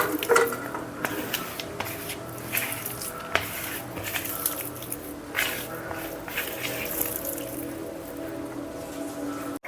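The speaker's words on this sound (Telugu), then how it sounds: "వేసి బాగా కలపాలండి. మొత్తం కలిసేటట్టు కలపాలి." Prawn marinade with a splash of water being stirred by hand in a bowl, a close, continuous wet squishing and slapping with soft splatters, no talking.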